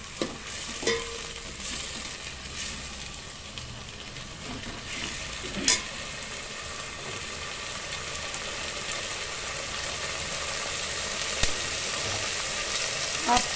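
Bajji pieces for sambar frying in oil in a pan, with curry leaves and coriander added, give a steady close sizzle throughout, broken by a few sharp scrapes and clinks of a spoon stirring.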